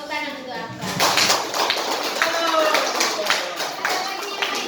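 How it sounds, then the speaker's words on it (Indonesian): A classroom of students claps for a classmate named Akbar during a school guidance lesson, brisk scattered clapping building after a short spoken lead-in and continuing evenly at close range. "Oke, tepuk tangan untuk Akbar."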